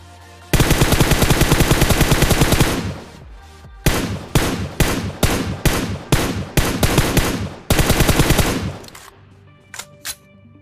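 AKM rifle fire in a PUBG-style battle royale video game: a long sustained automatic burst, then a rapid series of loud, evenly spaced short bursts, and a few sharp isolated shots at the end.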